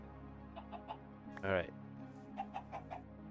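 Chickens in the video game Minecraft clucking in a few short, soft bursts, with a brief louder squawk in the middle, over a steady low game hum and a short spoken word.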